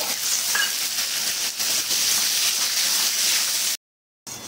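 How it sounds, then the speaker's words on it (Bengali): Potatoes sizzle and fry in hot oil in a pan with cumin and panch phoron, a steady loud hiss with small crackles, broken briefly by a moment of silence near the end. "আলুগুলো 1 মিনিট ভেজে নিয়েছি"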